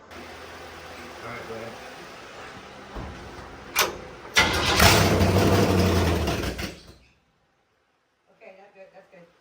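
A rebuilt 350 small-block stock car engine cranks on its starter with a rough, noisy whir that builds and cuts off abruptly, leaving silence and a few faint sounds.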